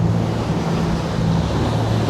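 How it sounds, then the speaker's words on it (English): A boat on a coastal sea passage rides up and over a big wave, with a continuous loud rush of hull on water, engine drone and wind buffeting the microphone, and no talk. "There's a big wave coming up here, up the top, down the other side."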